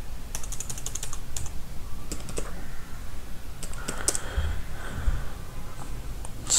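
Typing an SQL query on a computer keyboard: a steady run of close, quick key clicks in irregular bursts with short pauses, alone without talk.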